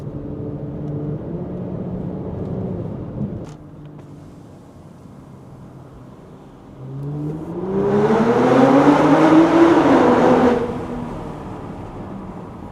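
A BMW X5 45e (G05) with a Stage 1 ECU tune of about 500 hp and the particulate filter deleted, exhaust valves open, hums quietly at first and then swells into a brief, stronger rev before settling back.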